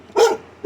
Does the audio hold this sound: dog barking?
yes